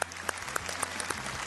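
Studio audience applause on a Bulgarian TV quiz show, a short burst of steady clapping with no voices, fairly loud and even throughout.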